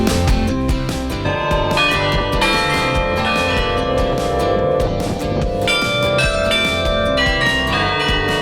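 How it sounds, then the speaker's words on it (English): Church bells ring from the bell tower in Bruges, close and loud, with overlapping peals clanging continuously and resonantly throughout. "And you can hear the bells as well."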